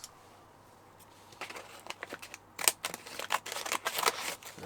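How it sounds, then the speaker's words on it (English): Scissors snip through packaging at close range with a quick run of sharp, irregular cuts and crinkles that grow louder and busier after a quiet start. "Scissors."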